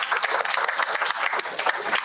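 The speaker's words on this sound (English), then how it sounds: "Yes, round of applause." Parents and attendees at a school board meeting clap for young readers, brisk, uneven applause from a modest crowd with individual claps standing out in a quick, continuous patter.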